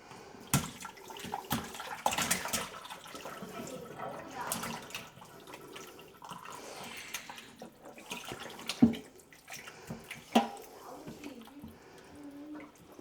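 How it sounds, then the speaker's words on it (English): Salmon brine drains into a sink, with intermittent splashing and trickling water and a few sharper drips across the stretch, fairly quiet, while someone talks at times. "I'm just gonna drain off this brine in the sink."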